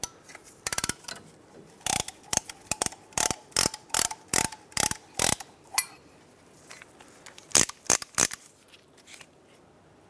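A brake caliper piston compressor tool on a 2007-2015 Mazda CX-9 is released with rapid, sharp ratcheting clicks that come in several quick bursts separated by short pauses.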